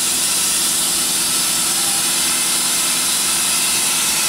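Machine spindle spinning at about 1,000 RPM, a steady loud broadband whir and hiss that holds evenly without change.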